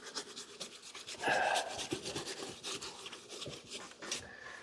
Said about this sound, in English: We're not trying to take off a whole lot of material, that's why we're wet sanding.